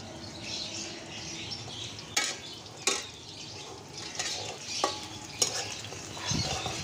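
Onions frying on a clay stove on a home veranda in Dhaka, a steady sizzle with stirring and a few sharp scrapes and clinks of a spoon against the pot.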